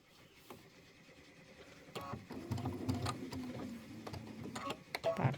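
A sewing machine stitching through quilt layers, faint at first, then a run of rapid mechanical stitching that grows louder and busier, with no voices.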